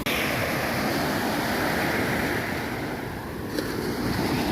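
Sea waves wash steadily onto Hat Phra Yun beach in Thailand with a constant broad roar of surf, mixed with wind buffeting the microphone and no talk.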